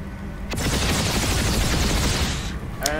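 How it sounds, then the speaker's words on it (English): An aircraft's rapid-fire gun in the sci-fi shooter Planetside 2, firing a continuous, dense, loud stream of shots for nearly three seconds with no breaks. "It has a primary weapon of just a rapid fire gun"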